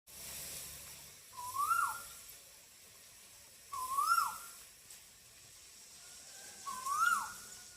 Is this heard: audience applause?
no